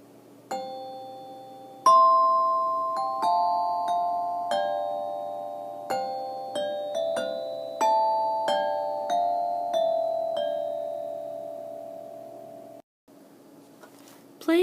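A xylophone plays a simple song, one clear ringing note at a time at a steady pace. Each bar is struck near and loud and its tone lingers before fading, with a short pause near the end.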